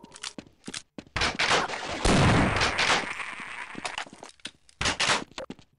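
12-gauge shotgun blasts in Half-Life, several loud close booming shots in irregular bursts, one long heavy roar in the middle, with short pauses of near silence between.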